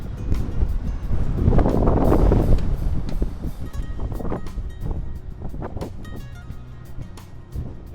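Gusty wind roars across the microphone at a New Jersey beach during hurricane swells, surging loudest early on, with surf rumbling beneath and steady blustery noise throughout.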